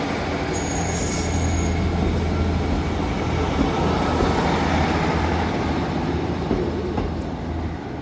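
A Great Western Railway train pulls away from a small rural station, a continuous loud rumble of wheels and engine with a low steady drone and a faint high squeal near the start, no voices.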